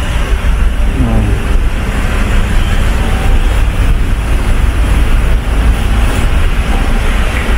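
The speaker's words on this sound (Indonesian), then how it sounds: "sudah dengar itu mesin-mesin mobil sudah pada dinyalakan" Steady low rumble of idling car engines in the enclosed vehicle deck of a ferry crossing between Bakauheni and Merak, continuous and fairly loud with broadband mechanical noise.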